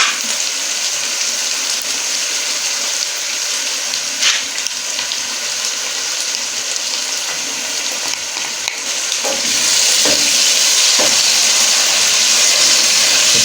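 Chickpeas fry in a pan of hot oil, giving a steady, loud sizzle with occasional scraping and stirring knocks; no one speaks.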